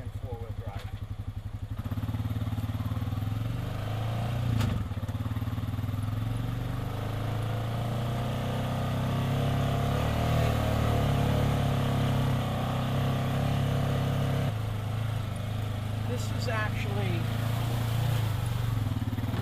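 An off-road vehicle in two-wheel drive rumbles along a dry trail through mud holes in Big Cypress, its engine droning steadily up close with occasional bumps and rattles, a voice talking intermittently over it.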